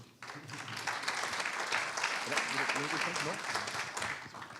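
Audience applause at a transport awards ceremony, a dense steady wash of clapping with voices mixed in, starting abruptly and holding at an even level.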